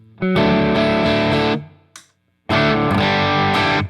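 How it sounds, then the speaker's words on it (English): Electric guitar chords through an amp ring out with a light reverb tail, a short pause, then another loud strummed passage resumes. "Very light reverb."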